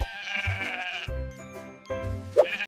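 A sheep bleats loudly and close by in three wavering calls with short gaps between them.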